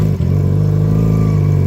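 A sport motorcycle engine idles steadily in winter, warming up after a push start with a weak battery, giving a loud, close, continuous low drone with a brief dip near the start.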